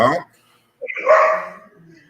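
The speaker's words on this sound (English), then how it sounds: "so that's your dog barking" A dog gives a single close, loud bark that trails into a whimpering yip. A brief voice comes just before it.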